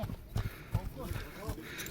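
Hooves of a horse clip-clop on the ground as it is led and turned left and right for a sale showing, several loose uneven steps close by, with someone talking over them.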